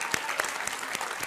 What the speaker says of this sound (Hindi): आज की ऑडियंस के लिए एक बार ताली बज जाए भाई।